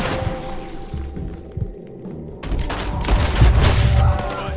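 Gunfire from the Red Dead Redemption 2 video game, with scattered shots and booms that build into a dense, loud volley in the second half.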